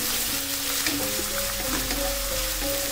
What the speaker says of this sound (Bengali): 2 মিনিট মতো একটু ভেজে নিচ্ছি